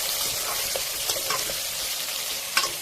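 Mutton pieces sizzle in hot oil in a pan while a spoon stirs, giving a steady bright hiss punctuated by a few soft scraping knocks.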